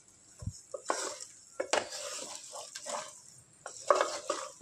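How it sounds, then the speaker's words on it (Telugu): Ginger garlic paste and turmeric frying in a pan for chicken fry, with intermittent stirring scrapes and spoon clinks over a soft sizzle, close and fairly quiet. "అల్లం వెల్లుల్లి పేస్ట్ పచ్చి వాసన పోయే వరకు ఫ్రై చేసుకోవాలి"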